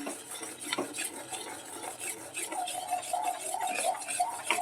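A spoon works through thick jaggery syrup for peanut chikki in a pan, giving continuous scraping and stirring with light metallic clinks and a faint sizzle underneath, close and fairly quiet.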